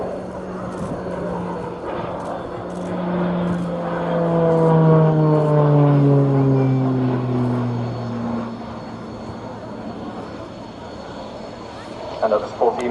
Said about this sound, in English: he's going to put the aircraft onto its side and push his way around the sky in an outside turn